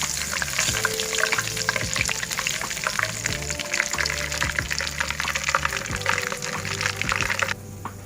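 Masala roasting in hot oil in a pan for an egg masala gravy, a steady close sizzle and crackle with occasional stirring scrapes, continuous and fairly loud before dropping off near the end.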